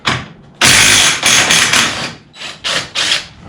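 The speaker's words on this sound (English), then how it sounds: "We're gonna hit these with impact because I'm lazy." Milwaukee impact driver backing out door hinge bolts on a side-by-side: loud, close bursts of rapid hammering, one long run followed by several shorter pulses, with no speech.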